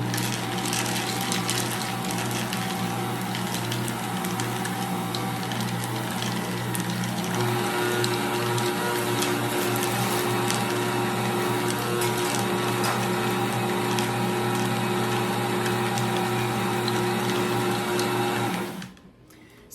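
An electric mixer runs steadily for a long stretch, stirring chocolate chips into cookie dough, a loud constant whir with a grinding texture that cuts off abruptly at the end.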